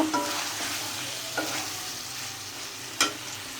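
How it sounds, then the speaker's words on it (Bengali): Spiced curry sautéing in a pan: a steady close sizzle broken by a few sharp scraping strokes of the stirring spoon, with no voices. "এটা কষানো প্রায় হয়ে গেছে এখন ঝোল দিয়ে দিব"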